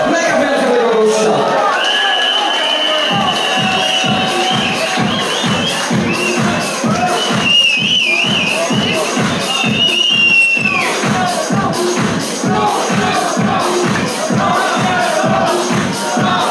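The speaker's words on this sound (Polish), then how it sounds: "Raz jeszcze gorący brawa dla naszego mega, mega wielkiego gościa." A large crowd at a New Year's Eve show claps in a steady, fast rhythm, with cheering, whoops and a sustained whistle-like tone. The sound is loud and continuous throughout.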